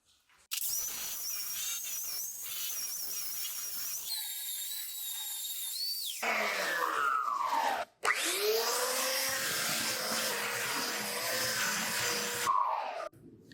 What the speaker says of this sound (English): So I'm going to get the belt sander out.